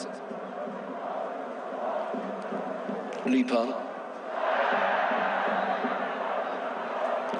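A football stadium crowd at a Beijing FC vs Buriram United match roars and cheers, swelling louder over the second half while a commentator talks over it.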